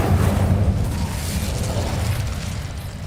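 Incendio fire spell cast in the video game Hogwarts Legacy: a loud, rumbling burst of flame that starts strong and holds as a dense roar for about three seconds with no talk.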